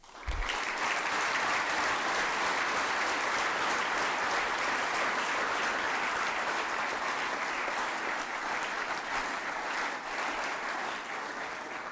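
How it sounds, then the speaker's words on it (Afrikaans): An audience at a school prize-giving applauds a group of boys, a dense, even roar of clapping that holds steady and loud for about twelve seconds with no talking over it. "Kom ons gee aan hierdie seuns 'n reuse applous."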